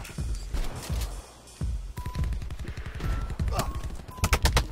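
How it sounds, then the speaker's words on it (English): Rapid bursts of automatic gunfire and single shots in Black Ops 4 multiplayer, loud and close, with clustered volleys throughout and a dense flurry near the end. "Who the fuck is shooting me?"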